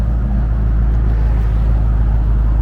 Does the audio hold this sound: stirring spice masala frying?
no